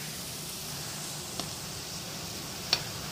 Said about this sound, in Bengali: বাকিগুলো আমার ফ্রাই হচ্ছে